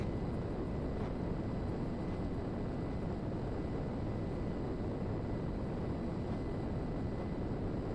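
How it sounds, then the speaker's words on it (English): Steady, dense roar of an airplane engine as the plane lands on a runway in GTA 5, loud and unchanging throughout with no voices. "Wheels down, land the plane, and at the end of the runway on the left hand side you'll see a small hangar."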